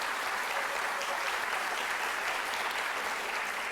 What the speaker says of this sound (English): Dr. Gesh, I realize you got the biggest applause so far